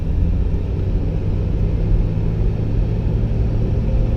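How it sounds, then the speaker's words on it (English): A manual-transmission car revs under acceleration with a learner at the wheel, producing a loud, steady, close engine rumble that holds for about four seconds without a clear break. "if you want to give it some gas, put the clutch in and shift it into second."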